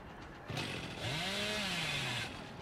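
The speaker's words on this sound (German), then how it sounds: "Hab nur so getan, als ob ich meine Kettensäge benutze." Chainsaw revving in the horror video game Dead by Daylight: a short idle burst, then a loud rising and falling rev that holds for over a second before cutting back, with no talk.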